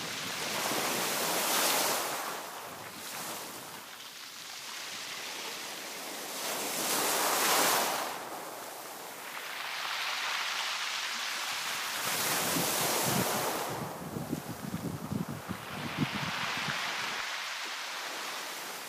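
Strong coastal wind gusts in Brittany rise and fall in roaring surges, mixed with the wash of surf, blustery and close to the microphone.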